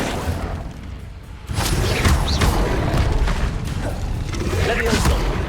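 An Incendio fire spell cast in Hogwarts Legacy gives a sudden whooshing burst that swells into a roaring, crackling rush of flame, loud and close, and it stays steady for several seconds.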